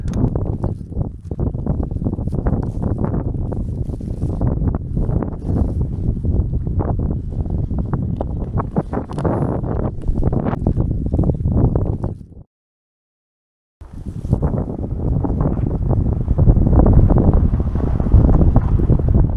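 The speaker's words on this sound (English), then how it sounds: "the wind is really cooling me down as I climb up" Strong wind buffets the microphone while a cyclist climbs Hartside Pass, a loud, steady rushing roar that cuts out briefly before returning just as heavy.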